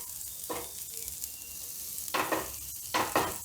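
Ladi pav set on a hot pan with masala and red chilli powder sizzles softly throughout, with several louder hissing bursts as the bread is pressed and moved, and no talking.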